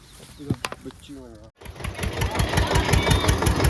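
A motorcycle engine starts up partway through and runs with a steady, rapid chugging pulse, loud and close, after a brief stretch of voices.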